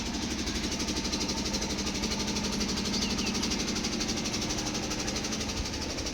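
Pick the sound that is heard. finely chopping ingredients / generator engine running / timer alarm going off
generator engine running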